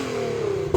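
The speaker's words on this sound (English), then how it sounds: "let's hear the 1000 horsepower car." A tuned 1000-horsepower Nissan GT-R engine gives a brief, loud rev, a steady droning engine note that swells slightly before cutting off abruptly.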